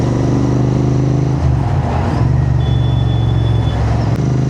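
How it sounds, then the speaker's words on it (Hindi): A red Porsche's exhaust note rumbles loud and close as a continuous low engine drone with brief changes in pitch, heard on a busy road from a motorcycle riding alongside. "आप लोगों को कैसी आवाज़ आ रही होगी एग्जॉस्ट नोट की"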